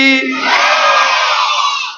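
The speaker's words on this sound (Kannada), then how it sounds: "ಎಲ್ಲರೂ ಜೈಕಾರ ಮಾಡಬೇಕು ಶಿವಯೋಗಿ ಸಿದ್ದರಾಮೇಶ್ವರ ಮಹಾರಾಜ ಕೀ" A devotional gathering responds in unison with a loud, sustained collective shout of "jai" hailing Shivayogi Siddharameshwar Maharaj at a religious discourse, many voices merging into one long drawn-out cry.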